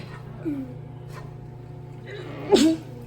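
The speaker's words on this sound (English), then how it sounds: "I did that too when I sneezed" A single sharp sneeze bursts out near the end, preceded by a short inhale-like vocal sound, over a low steady hum.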